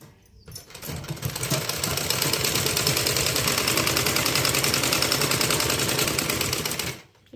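A sewing machine stitches a blouse in a fast, steady mechanical rattle that starts after a short pause, runs evenly for about six seconds and then stops abruptly.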